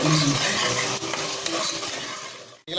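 Masala paste for a village-style mutton curry fries in oil and gets stirred, giving a dense close sizzle with scraping that ends in a brief clink and a short drop-off.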